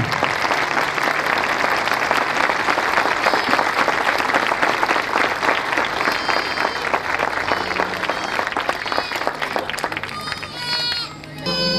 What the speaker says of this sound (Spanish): Le damos las bienvenidas y lo recibimos con un fuerte pero fuerte aplauso.